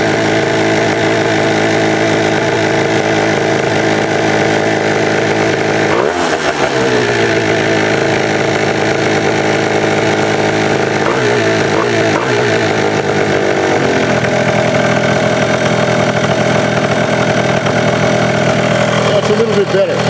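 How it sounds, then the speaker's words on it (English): A DIO high-compression race engine runs loud and steady at high revs with a constant buzzing drone, dipping briefly as the throttle is adjusted before settling again. "Now the engine is running probably 3-4 thousand too high."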